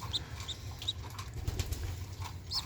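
Several short pigeon calls come in scattered bursts over a low steady background hum, with brief soft rustles between them.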